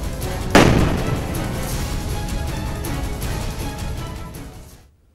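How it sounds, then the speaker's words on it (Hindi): A Sarang artillery gun, an army cannon of Russian origin, fires one loud, close boom with a sharp onset, followed by a long rumbling decay that echoes for several seconds. "सारंग नाम सेना को मिली नई तोप का है"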